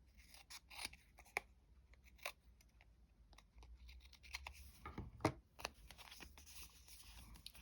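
Paper being trimmed for a handmade accordion-style junk journal: a run of crisp, separate scissor snips at an uneven pace, close and fairly quiet, with no talking.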